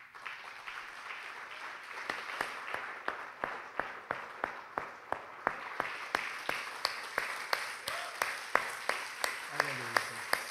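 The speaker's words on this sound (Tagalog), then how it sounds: "Pero yung para kay Jesus, yung talagang palakpak na generous para kay Jesus." A church congregation claps in a steady, rhythmic beat that builds slightly, with voices faintly underneath.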